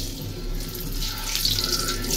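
Quail eggs dropped into very hot, smoking oil give a close, steady sizzling hiss that swells slightly and holds for a couple of seconds.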